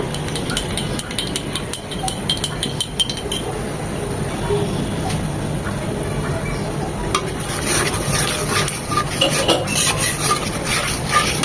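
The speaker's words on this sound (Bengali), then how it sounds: "টক দইটাকেও মশলার সাথে আর দু তিন মিনিট ভালোভাবে কষিয়ে নেব" Spoon stirring and scraping a pot as sour yogurt is sautéed with spice paste for fish curry, continuous rubbing with frequent light metallic clinks, growing busier toward the end, with no speech.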